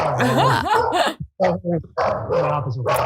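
Two dogs bark and yip excitedly indoors after a knock on a neighbor's door, a close, loud burst of overlapping barks with short pauses and some whining.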